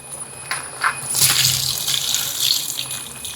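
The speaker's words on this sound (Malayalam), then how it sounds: "നമ്മൾ പാല് വയ്ക്കാൻ തുടങ്ങിയിട്ടാ." Milk is poured from packets into a large pot of boiled sugar for payasam. A close, continuous pouring splash lasts a few seconds, with no one speaking.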